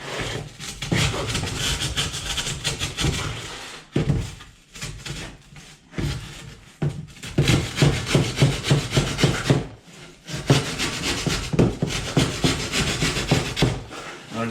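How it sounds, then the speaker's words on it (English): A hand rasp files down the edges of a wooden piece for a rock-face wall, giving long, loud rough rubbing strokes in steady bursts with brief pauses between passes. "I just file all this edges off"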